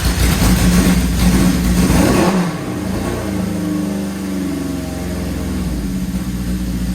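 A 1976 Honda CB750 four-cylinder motorcycle engine runs loud and close, revving hard for about two seconds, then dropping to a steady, slightly uneven idle that continues to the end.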